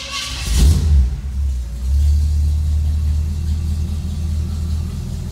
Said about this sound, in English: You turn the key for the ignition and then fire it right up.